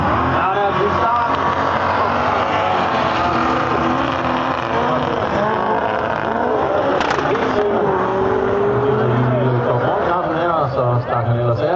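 Race car engines roar together at the start of a Grand Prix, a loud, steady wall of motor noise with rising revs and a car passing, while a commentator talks over it throughout.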